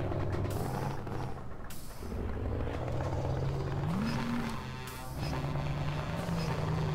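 A Scania 143M truck engine in Euro Truck Simulator 2 drones steadily, rising in pitch as it accelerates, with a brief hiss like an air brake; synthetic, game-like engine sound, fairly quiet.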